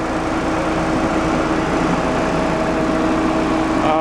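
T485 tractor engine held at high revs, a loud, steady droning roar with a constant buzzing pitch throughout, close and uninterrupted.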